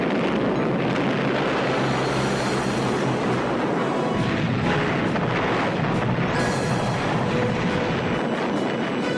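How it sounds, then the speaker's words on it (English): German gunfire blasting landing craft during the Dieppe raid, a continuous loud roar of explosions and booming fire with dense rumbling, no voices heard. "Their landing craft were blown up by German gunfire."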